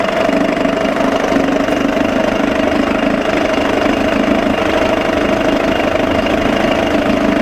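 A 6 hp Johnson outboard motor runs in gear with a steady, loud, close droning hum and faint knocking texture, unbroken and without voices.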